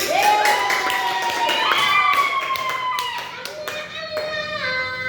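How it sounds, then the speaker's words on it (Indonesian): Students in a microteaching classroom clap their hands in a brief round of applause, crisp claps beneath prominent children's and teacher's voices and cheering. "benar, tepuk tangan"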